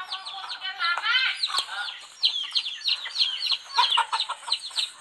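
Chickens fighting, giving repeated agitated clucks and squawks that come close and fairly loud in irregular bursts throughout.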